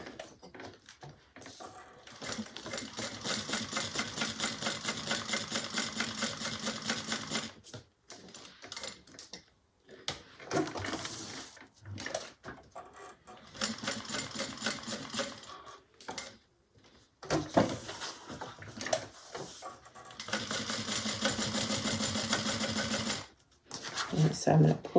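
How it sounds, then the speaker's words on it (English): Sewing machine top stitching an eighth of an inch around the edge of a fabric overlay, running in bursts of fast rhythmic whirring separated by short pauses, with occasional talk in between. "I'm going to top stitch at 1/8 of an inch around the perimeter"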